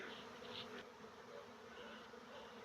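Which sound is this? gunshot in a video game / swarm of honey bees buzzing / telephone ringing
swarm of honey bees buzzing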